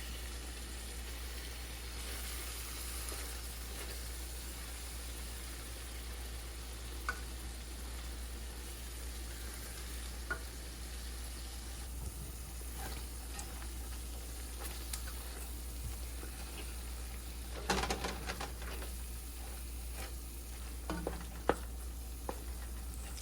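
Food fries in a pan with a steady low sizzle, stirred now and then, with a louder burst of scraping and clattering near the end over a constant background hum.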